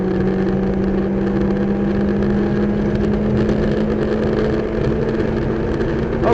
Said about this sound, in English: Now squeeze on the gas, and we're flat on the floor.